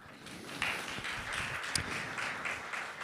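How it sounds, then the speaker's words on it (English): Applause for the jury at a competition's final event, a broad, fairly faint wash of clapping from a crowd, steady throughout with a few sharper claps standing out. "big applause to all the juries"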